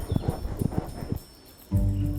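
Hooves of racehorses at a jump-racing yard clip-clop in a quick uneven run of close, firm strikes, then stop, followed by a short low rumbling sound.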